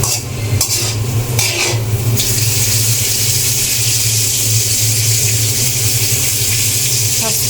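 Spices sizzling in hot ghee for a tempering before mixed vegetables go in, a steady loud broadband hiss running the whole time with a few scraping stirs near the start.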